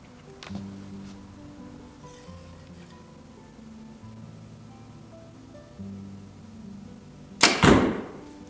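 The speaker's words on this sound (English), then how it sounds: "I might just run 15 arrows through it or whatever." An arrow loosed from a Mathews Phase 4 compound bow, drawn at 75 pounds, through paper, giving one sharp loud snap and thwack near the end after a stretch of quiet low hum.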